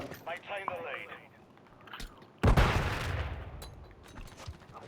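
Gunfire in the Call of Duty 3 video game: a sudden loud burst of shots that fades into a rumbling tail, preceded by a voice talking.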